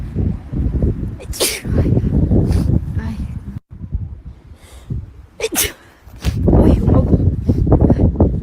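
A woman's sneezes during an allergy fit, sharp bursts near the microphone over a loud, rough background with wind-like rumble and rustling throughout.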